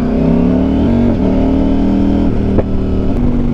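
A 2024 CF Moto 800MT adventure motorcycle fitted with a Red Exhaust, idling with a deep steady engine note that rises and falls through short revs, close and loud.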